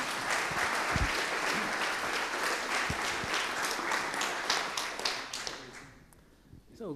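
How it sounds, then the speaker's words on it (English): A conference audience at RustFest Rome applauding a speaker, dense steady clapping that thins and fades out toward the end, with a few sharp taps and a voice briefly audible at the close. "please give a round of applause to Massimiliano"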